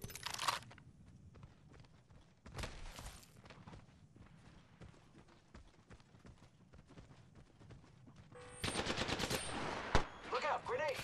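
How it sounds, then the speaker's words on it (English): Gunfire rattles through a fight in Apex Legends, with sharp scattered shots and bursts throughout and a louder, denser stretch of firing toward the end. "They're shooting at me!"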